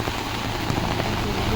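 Heavy rain pours steadily at Mini Mahabaleshwar in Dapoli, in the Konkan region, making a dense, continuous hiss close by with no pauses throughout.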